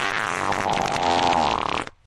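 A long, buzzing, sputtering fart sound imitated by mouth, loud and close, cutting off abruptly at the end.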